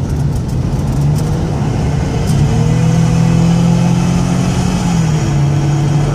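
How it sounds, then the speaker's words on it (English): The engine of a 2014 Toyota Sienna minivan hums steadily and climbs in pitch as it accelerates, with a brief drop and rise where the transmission shifts gear. "My goal is here for you to hear the engine run strong. Hear the transmission shift."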